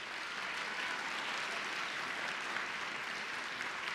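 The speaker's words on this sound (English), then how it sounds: "Round of applause, yes." A steady round of applause for an accompanist rises from the audience at a middle school honors concert, even and moderately loud throughout without any voices.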